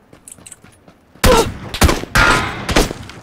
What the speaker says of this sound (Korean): 저한테 쏘는 총소리가.